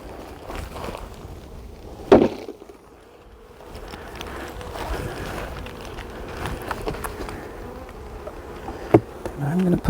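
Honey bees buzz steadily around an open hive during a late-season inspection, a close, continuous insect drone with a few sharp knocks and handling bumps.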